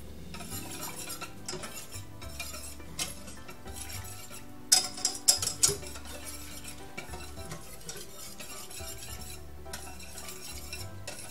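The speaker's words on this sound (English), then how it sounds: "And stir it continually." A spoon stirs a mixture in a pot over medium stovetop heat, scraping and swishing continuously with a faint sizzle beneath, plus a brief cluster of sharp clinks against the pot midway.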